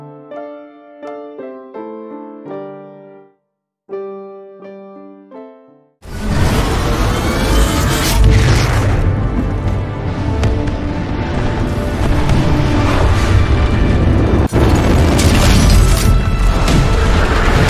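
A heavy Titan landing impact in Titanfall 2 crashes in after a short musical cue, a loud boom that gives way to sustained rumbling and mechanical clatter, with a second sharp hit later on.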